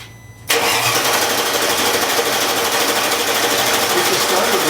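A Mercedes SL55 AMG engine in an R230 with a RENNtech swap bursts into life after a brief starter crank, then holds a loud, steady, close-up running roar.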